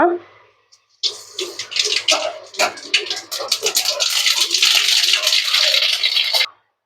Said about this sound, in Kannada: ಆಯಿಲ್ ಬಿಸಿ ಆಗಿದೆ ಈಗ ಇದಕ್ಕೆ ಸಾಸಿವೆ ಕಾಳು ಸೇರಿಸ್ಕೊಳ್ಳೋಣ